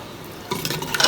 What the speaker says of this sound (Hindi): अब इसमें डालूँगी मैं पानी।